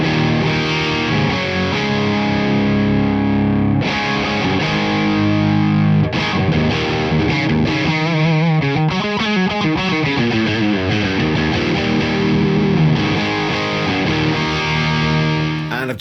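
High-gain electric guitar on the bridge pickup through a Victory V4 Kraken amp and Duchess 212 cabinet, played alone as dense, saturated chugging riffs and sustained distorted chords that stay loud and close throughout.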